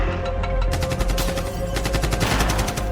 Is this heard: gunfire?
yes